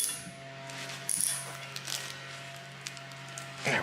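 A wrench cranks down a metric bolt on a Street Torque turbo kit for a 2JZ-GTE engine, giving a few sparse, quiet ratcheting clicks and small metallic knocks over a low steady hum.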